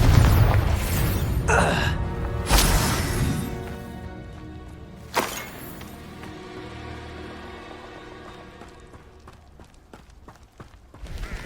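A Confringo blasting spell in Hogwarts Legacy produces several heavy explosive booms spaced a few seconds apart, each ringing out and fading into a long decaying tail that grows quieter toward the end.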